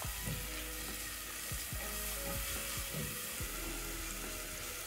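Onion and a small leek frying in a pan for butternut soup, a constant soft sizzle with occasional scraping stirs, no talking.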